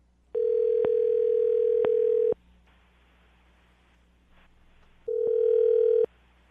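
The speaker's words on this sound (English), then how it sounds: "I'm going to dial the phone number right now" A steady telephone dial tone holds for about two seconds, breaks into quiet line noise, then returns for roughly a second; the call is being placed for a radio show's second-date segment with a woman named Denise.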